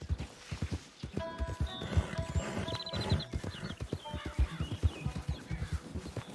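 Horse hooves clip-clop at a steady walking pace in Red Dead Redemption 2, close and rhythmic, with a brief whinny, bird calls and faint background tones in the game world.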